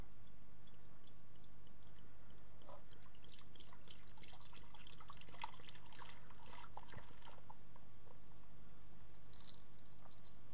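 A cold, fizzy, sharp-tasting drink pours into a crock pot, giving a soft trickle with faint crackling fizz and scattered tiny pops, fairly quiet and without speech.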